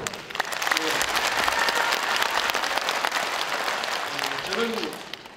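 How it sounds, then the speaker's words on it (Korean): A crowd claps steadily for several seconds, a dense wash of applause that fades out at the end, with a voice briefly audible near the close, at a 2012 Gangjin County by-election candidates' debate. "박수를 한번 보냈으면 좋겠습니다"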